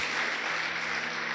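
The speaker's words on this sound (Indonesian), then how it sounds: "Tepuk tangan dong buat Tuhan Yesus." A church congregation at a youth service claps continuously in dense, even applause, a steady wash of hand claps at moderate level with no voices standing out.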